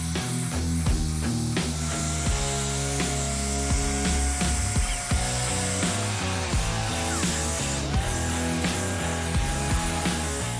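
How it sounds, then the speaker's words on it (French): A car body panel is fully sanded by machine, a steady loud whirring grind that runs throughout with no pauses, thick with layered tones and with no speech over it. "c'est reparti pour le ponçage intégral de la pièce"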